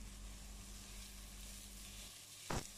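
Two large chopped onions sauté in oil with a faint, steady sizzle over a low hum, followed by one brief scraping stir near the end.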